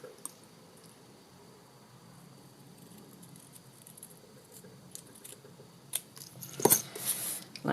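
Scissors trim the ends of a ribbon bow on a small gift box, the first snips faint and soft, then a few louder crisp cuts close by near the end; no one talks.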